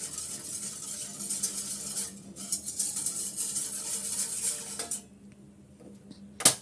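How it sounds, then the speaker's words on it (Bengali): A spoon mixes custard powder in a bowl, giving close clinks and scraping against the sides, steady for several seconds, then pausing before one sharp final tap. "ভালো করে মিক্স করে নিচ্ছি আমি পাউডারটা।"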